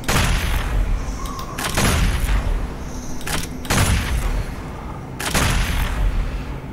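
Heavy weapon fire and booming blasts from combat in the PC shooter Doom Eternal, with loud bursts recurring every second or so over a dense, continuous roar of battle noise.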